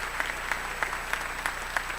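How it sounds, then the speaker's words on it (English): Steady applause from a large audience at a high school graduation ceremony, dense continuous clapping with a few sharper claps, heard from a distance in a big hall. "Let's give them all a round of applause before we even get started."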